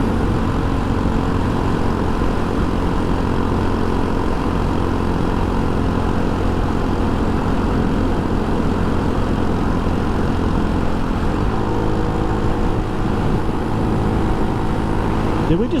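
A scooter engine runs at full throttle on a long highway ride, giving a constant loud drone mixed with wind roar that holds steady at close range. Someone talks over the noise at moments.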